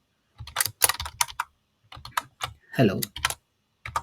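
Keys clatter on a computer keyboard in short bursts of quick taps and pauses, close and fairly quiet, with a brief spoken word mixed in.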